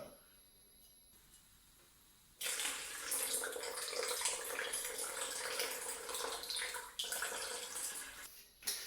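After a quiet start, cold water begins pouring into a measuring jug with a loud, steady splashing rush that continues for several seconds, briefly pausing near the end.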